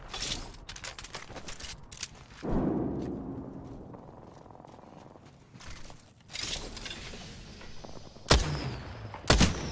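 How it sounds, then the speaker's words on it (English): Gunfire in Apex Legends cracks in several sharp bursts and single loud shots. A rough, rumbling lull breaks up the shooting midway, and the reports return close and loud near the end. "Opening fire on the enemy."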